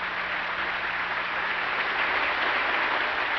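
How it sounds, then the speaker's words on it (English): Large audience applauding together, a dense, even wash of clapping that holds steady throughout, moderately loud and without voices. "The audience and the world applauded."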